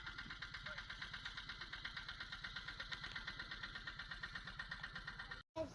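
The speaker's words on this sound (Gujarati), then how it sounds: "અમારા ભાઈઓ ટ્રેક્ટર લઈને આવે છે." A tractor engine chugs steadily close by in a regular, rapid knocking rhythm, with the loud running sound cutting out briefly near the end.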